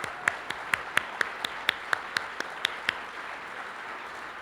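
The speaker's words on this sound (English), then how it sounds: "Let's give her a round of applause." A thin, sparse round of applause for a guest at a legislative preview with a state governor, a dozen or so distinct claps landing in a fairly even rhythm, close and clear, with no voices over it.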